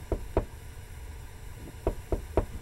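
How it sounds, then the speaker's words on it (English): Knocking on a door inside a video game: a quick double rap, a short silence, then three more evenly spaced knocks, crisp and fairly close. "Are they knocking on the door?"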